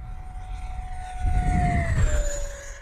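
A small FMS Futura 80mm EDF jet model plane screams past at speed, its high whine dropping in pitch as it passes, with a brief rush of engine noise.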